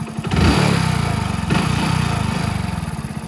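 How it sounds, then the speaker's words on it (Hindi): A Hero Splendor motorcycle engine idling close by, a loud, even low-pitched putter with a slight swell around the middle. "ये देखो हर्षित का मोटरसाइकिल स्प्लेंडर।"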